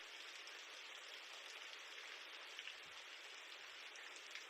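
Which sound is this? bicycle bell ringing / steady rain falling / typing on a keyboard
steady rain falling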